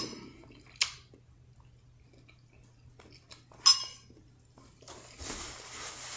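Quiet, close chewing of a bite of beans and onions, with soft wet squishes and a couple of sharper clinks of cutlery against a dish, spaced by near silence.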